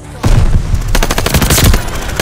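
Rapid automatic gunfire from a team deathmatch match in the Vanguard video game, loud and dense, a sustained burst of overlapping shots with no speech.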